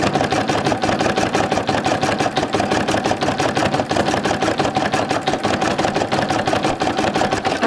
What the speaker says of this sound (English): Your embroidery machine kind of draw, but you use thread.